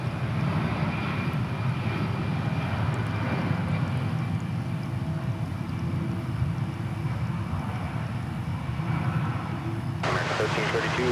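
Airliner taking off at DFW Airport, a loud sustained jet-engine roar filling the scene with steady rumble, heard under a speaking voice.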